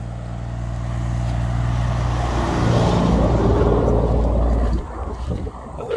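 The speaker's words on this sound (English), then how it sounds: "Yeah, truck's slowing down." A truck on a road past open fields slowing down, its low engine rumble growing steadily louder, then dropping off and turning uneven as it eases; no one speaks.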